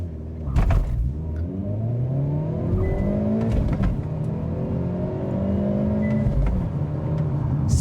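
A Hyundai Elantra N with a six-speed manual launches hard from a stop, revving up through several gears with rising engine pitch and brief dips at each shift, heard from inside the car.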